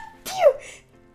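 A single quick sneeze, sharp and close, bursts out with a breathy intake and a falling voiced tail, followed by quiet.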